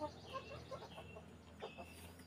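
Backyard chickens cluck softly while pecking at discarded fish scraps, a scattering of short, quiet calls at close range over low background noise.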